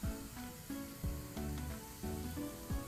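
Onions sauté with salt and spices in a pan for a chole dish, giving a steady close sizzle with faint stirring and scraping throughout.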